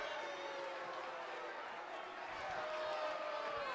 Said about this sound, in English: the crowd just booing these people.